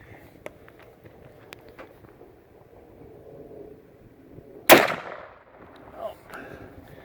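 A Savage 10/110 Scout rifle chambered in 450 Bushmaster fires once outdoors, a single sharp loud crack with a short decaying tail, heard amid faint footsteps and ambient shuffling.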